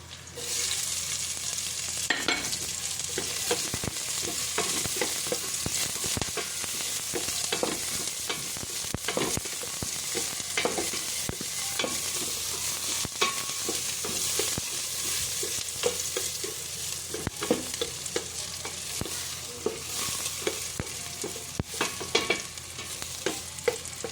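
Onions frying in a pan, a continuous close sizzle broken by frequent scraping and clinking strokes as they are stirred, with no talking.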